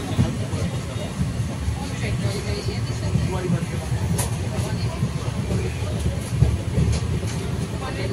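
Rumbling train ride out of Sealdah station in Kolkata, a steady low roar of the moving carriages with faint clatter, heard from inside the coach with soft background voices.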